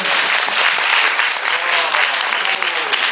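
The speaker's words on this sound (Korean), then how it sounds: "박수 좀 주세요, 여러분." Theatre audience applauding a prize winner called up from the seats during a post-show talk, a loud, dense and steady wash of clapping filling the whole clip with no pause.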